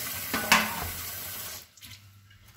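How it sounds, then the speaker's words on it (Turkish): Running tap water splashes into a sink as potatoes are washed under the stream, then the flow stops and only a quiet hum remains. "Patatesi bir daha yıkayalım"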